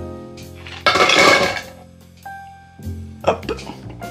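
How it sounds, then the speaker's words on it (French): Ice is tipped out of a cocktail glass while a Trinidad Sour is being mixed, giving a loud burst of clattering cubes and glassy clinks, then a short ringing tone and softer knocks, with a person speaking nearby. "Maintenant on retire la glace de notre verre."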